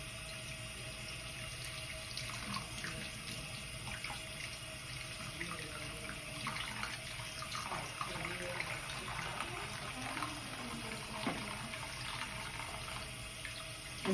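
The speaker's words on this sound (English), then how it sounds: "Then I'm going to rinse in cool water." Tap water running into a sink while dentures are rinsed in cool water, a steady moderate splashing stream with faint clinks and handling noises, no speech.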